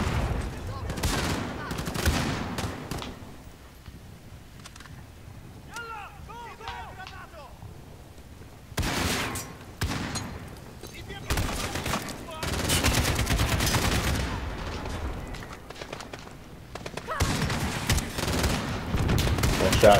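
Gunfire in the Call of Duty Modern Warfare campaign: repeated loud volleys of rapid automatic shots in long bursts, separated by quieter stretches where voices and radio chatter come through.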